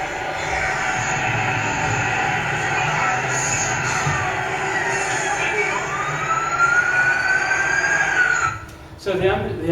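A siren wails steadily in the distance, its pitch slowly rising and falling over a constant background rumble, ending with a brief noisy disturbance.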